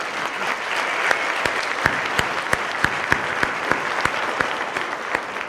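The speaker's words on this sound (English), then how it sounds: "So let's give these ladies a round of applause." An audience applauds women truck drivers at an awards event, a steady burst of clapping from a crowd, close and even throughout, with a few sharp individual claps standing out.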